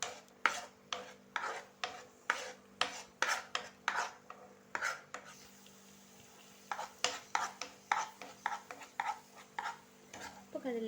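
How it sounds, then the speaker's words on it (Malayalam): Dates halwa being stirred in a pan, a steady series of scraping, rasping strokes with a brief pause midway, close and fairly quiet with no talk. "ഇനി നമുക്ക് ഇത് അലുവയുടെ ഒരു ഫോം ആവുന്നിടം വരെ ഇളക്കി കൊടുത്തുകൊണ്ടേ ഇരിക്കാം."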